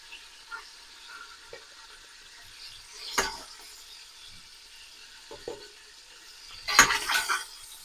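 Chicken pieces searing in a pan, a soft steady sizzle with occasional louder crackling bursts and faint clinks of a utensil against the pan.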